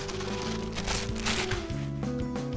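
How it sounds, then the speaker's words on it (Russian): Dry wood shavings crinkle and rustle as they spill out of a bag, a soft continuous pouring with a low hum in the background. "Высыпаем содержимое пакета на дно"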